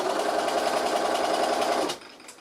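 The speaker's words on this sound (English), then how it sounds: "going to stitch just past that so we capture all of it inside" A sewing machine stitches fabric for a delicates bag in a fast, steady mechanical whirr for about two seconds, then stops abruptly, leaving a faint click and quiet.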